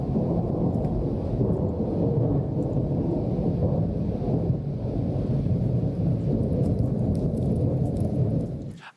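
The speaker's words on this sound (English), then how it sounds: "this is thunder snow as heard from Edinburgh." Thunder snow over Edinburgh fills the whole stretch with a loud, continuous low rumble. A dense hiss of precipitation runs underneath until the sound cuts off abruptly at the end.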